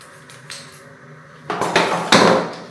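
Matcha product package in stylish packaging being opened up close: a quiet start, then a cluster of sharp crackling, tearing bursts growing louder over about a second, with no talking.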